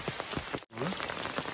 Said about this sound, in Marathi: हे बघा मजबूत पाऊस पडला